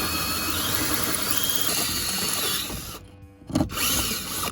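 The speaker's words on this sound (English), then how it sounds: "Let's start drilling some holes." Power drill boring holes during a car pedal swap in a garage, a loud continuous whine that cuts out briefly near the end, then spins back up, close and alone.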